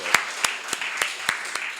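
An audience claps in a regular rhythm of about six sharp, evenly spaced claps in under two seconds, close and fairly loud, with faint voices underneath, at a gathering about fostering children with behavioral conditions.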